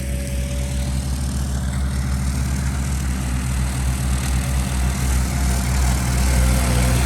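Kubota 4x4 ride-on mower with a three- or four-cylinder engine cutting thick grass, a steady, close, droning engine hum that holds an even level throughout with no voices.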